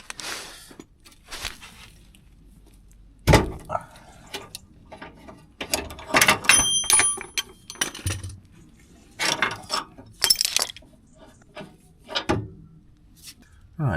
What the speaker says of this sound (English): Get a ratchet on there,